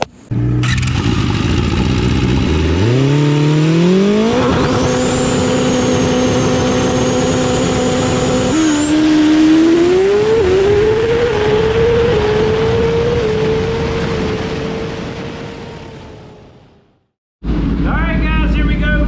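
A 2020 Kawasaki ZX10R sport bike revs hard on a dyno in one long pull, its engine note climbing steadily through the gears to a loud sustained scream before cutting off abruptly, then briefly firing again.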